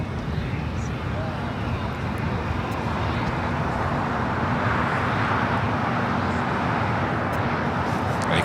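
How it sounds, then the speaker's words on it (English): An American Airlines A321neo airliner takes off at Los Angeles International Airport, a loud continuous jet roar with dense low rumble that builds steadily throughout, heard alone without talk. "Next takeoff is a flight heading to Philadelphia. American Airlines Flight 1609 and A321 Neo"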